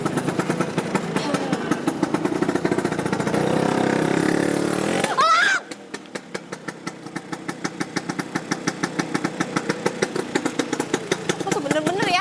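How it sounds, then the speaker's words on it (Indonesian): A motorcycle engine runs steadily and loudly nearby, then shifts into a rapid, even putt-putt idle rhythm on a roadside, with people talking over it. "Kayak suara motor elang."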